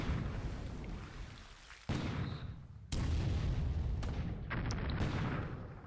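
A destroyer fires in a WWII naval strategy game as a series of heavy booms, each a sudden loud blast with a rumbling decay, several following one another in quick succession.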